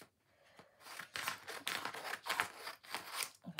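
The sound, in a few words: scissors cutting a card in the middle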